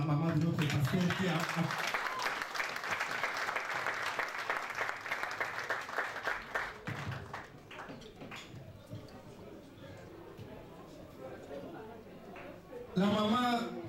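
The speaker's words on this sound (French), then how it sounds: "Est-ce qu'on peut applaudir pour la maman de notre pasteur" An audience at a pastor's 60th anniversary celebration applauds the pastor's mother, loud dense clapping that fades after about seven seconds into murmuring and voices, with a burst of sound near the end.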